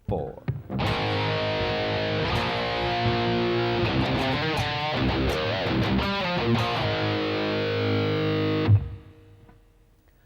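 Heavily distorted electric guitar plays a fast, dense metal verse riff, with chugging chords and rapid picked runs that stop abruptly near the end; a voice counts in briefly at the start.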